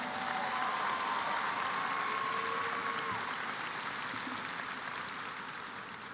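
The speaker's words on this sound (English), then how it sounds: "Please give them all a round of applause." Steady, dense applause from a large crowd at a spring graduation ceremony honoring the graduating class, continuing evenly for several seconds before easing slightly.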